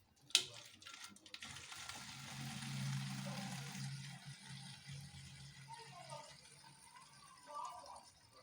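A liter of methanol pours from a container into a vessel while mixing up homemade Dettol antiseptic, a soft, steady liquid stream after a sharp initial clunk, faint and close, tapering off with small trickles.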